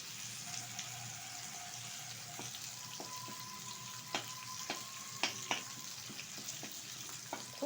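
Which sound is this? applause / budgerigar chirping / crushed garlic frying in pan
crushed garlic frying in pan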